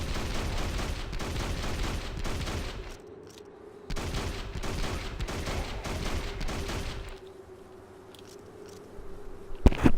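Repeated gunfire in the video game Hunter: The Reckoning, with sustained rapid volleys broken by short pauses, loud and continuous, and a sharp crack near the end.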